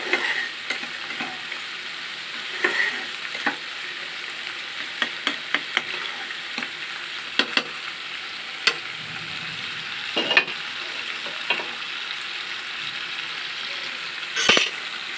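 A pan of watermelon rind and dried fish curry sizzles steadily, with scattered clinks and scraping stirs and a brief lid clatter near the end, close and fairly loud.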